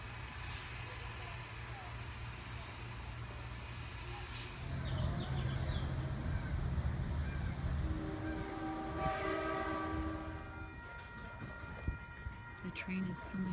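A train rumbles past nearby, a low steady roar swelling midway with rail screeching and clatter, while a person talks over it.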